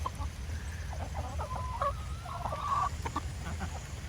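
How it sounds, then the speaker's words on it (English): Backyard chickens clucking softly while pecking at overripe tomatoes, short low murmuring calls over a quiet outdoor background with a low rumble. "Watch, the chickens love eating these tomatoes."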